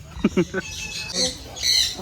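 A bird at Cebu Safari lets out a couple of sharp, squawky calls, with brief bursts of voice-like sound mixed in at close range.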